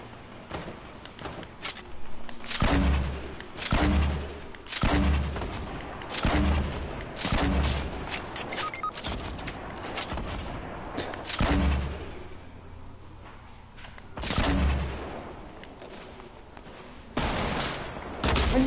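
Loud, repeated bursts of gunfire from a 1v1 video game match with launchers and building, arriving in dense clusters with brief lulls between volleys.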